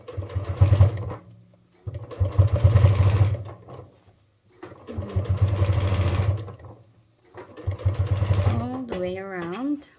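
A sewing machine runs in four steady bursts while stitching an upcycled sling bag, each run a close, rapid mechanical whirring separated by short pauses, with a few squeaky tones near the end.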